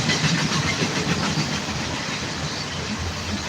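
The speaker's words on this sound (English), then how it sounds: "I'm sorry that you have to deal with listening to my train at the same time" A train rolls past close by with a steady, loud rumbling roar and faint rhythmic clatter of wagons, continuous throughout with no voices.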